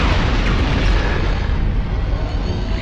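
Grenade explosion from a recruiter grenade in the video game Metal Arms, a loud sustained rumbling blast that fills the whole moment with dense low roar and no clear gaps.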